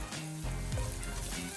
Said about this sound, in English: I love frying off spices like this